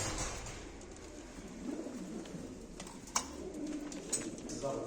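Pigeons coo softly in low, rolling murmurs, with a few sharp knocks and faint rustles nearby and quiet voices in the background.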